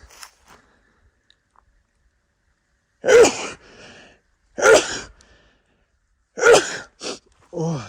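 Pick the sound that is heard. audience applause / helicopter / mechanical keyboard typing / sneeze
sneeze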